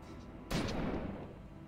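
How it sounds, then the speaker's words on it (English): An explosion magic spell in the video game Little Witch Nobeta goes off as a sudden broadband boom with a rumbling tail, loud over a steady game background, with no voice. "Explosion!"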